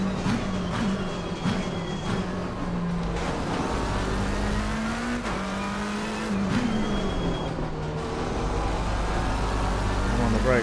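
A race car laps a track during a training session, its engine droning steadily close by with pitch shifts as it brakes and accelerates through a section, while a driver talks over it.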